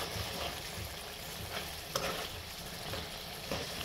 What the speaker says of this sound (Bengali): মাছটা আবার একটু হালকা লাড়া দিয়ে নিব